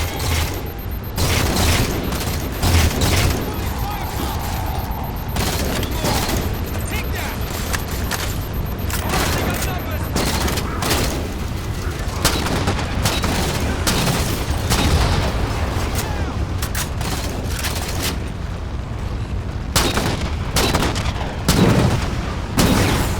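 Railgun blasts and explosions in the Halo 4 video game, a dense, loud barrage of repeated booms and gunfire running throughout with battle clutter and little pause.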